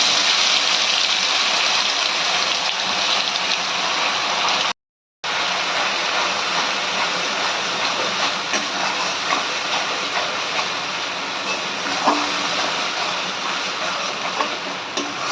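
Coriander and chilli paste added to a fried spice tempering for dhania chicken, giving a loud continuous sizzling hiss that briefly cuts out, then carries on steadily with faint scraping.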